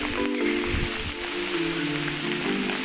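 Rain falling on the wet West Coast of New Zealand's South Island, a steady patter with soft scattered drops and some low rustling, fairly close, with no talking.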